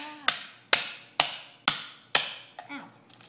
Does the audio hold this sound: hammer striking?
yes